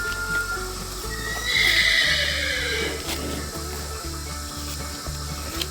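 A horse, a Crioulo in a stable, lets out a loud whinny that rises and fades, followed by a steady rhythmic scraping as its hoof is cleaned of stones and mud.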